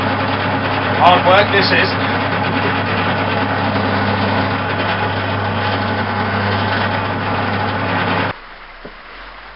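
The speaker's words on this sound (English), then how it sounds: "just need to go over it with a spinning wire wool now" Spinning wire wool polishing a homemade HDPE catapult frame, a steady motor drone with a broad abrasive hiss running for about eight seconds before cutting off, with someone speaking briefly over it near the start.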